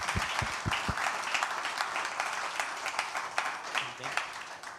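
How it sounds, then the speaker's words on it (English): A panel audience applauds at a conference session on scaling validation and verification. A few low thumps open a continuous, fairly faint wash of many hands clapping that stays steady throughout. "I would like to give a round of applause for our panelists."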